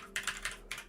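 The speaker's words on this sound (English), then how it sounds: "So let me just type it in the chat for you." Four quick computer keyboard keystrokes tap out a chat message, crisp and fairly quiet, in an uneven rhythm with short gaps between presses.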